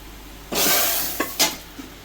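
Spices are tipped into hot oil for tempering, with a sudden loud sizzle burst that fades, followed by a few short clinks and stirring scrapes of a utensil against the pan.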